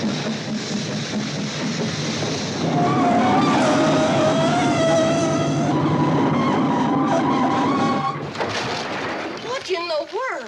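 A train braking to a stop on a track piled with tires, long loud squealing brake tones rising and wavering over rumbling wheels, then fading into scattered screeches at the end.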